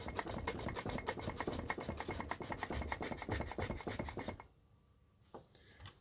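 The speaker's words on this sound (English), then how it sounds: "So I'm going to sand this round and thin this out" Plastic from a Scalextric Ford Escort Mk1 and Morris Ital model being sanded with a sanding block, quick rhythmic rasping strokes close up, then stopping abruptly into near silence.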